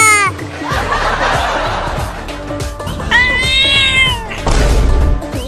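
A cat meows loudly several times, drawn-out and whiny, mixed with laughter and other background sounds.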